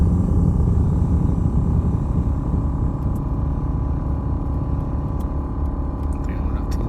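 An air suspension pump raises a bagged 2015 Honda Civic Si Coupe with a steady, loud, low mechanical hum and rumble, which continues without a break.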